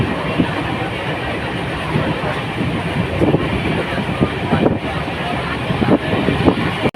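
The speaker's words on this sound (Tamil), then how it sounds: "ஸோ வண்டி செம ஸ்பீடாக போய் நிற்குது புனே நோக்கி." An Ekta Nagar–Chennai weekly superfast express train runs at speed toward Pune, with a steady loud rumble and rhythmic wheel clatter heard from inside, and faint voices.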